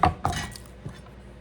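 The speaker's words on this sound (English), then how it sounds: "Next, I'm going to chop up some shallot." A knife chops shallot on a cutting board, three distinct sharp taps spaced across a short moment, close and fairly clear with no talking.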